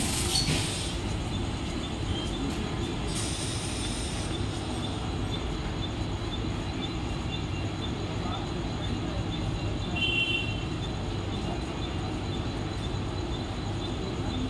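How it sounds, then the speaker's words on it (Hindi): A fast Mumbai local train runs past the platform at Vikhroli station, a sustained loud rushing rumble of wheels and carriages filling the whole stretch, with a short faint squeal partway through. "एक जलद गाड़ी जाने वाली है, कोई यात्री रेलवे लाइन पार न करे।"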